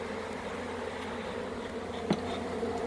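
Steady buzzing of many bees around a hive, a continuous droning hum with one brief knock partway through.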